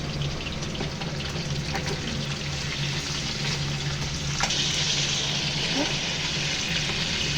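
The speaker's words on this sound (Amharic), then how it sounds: "አሳችን ተጠብሷል።" Fish sizzling and frying steadily in a pan for fish majboos, a continuous bright crackle with occasional pops and a faint low hum beneath, no talk.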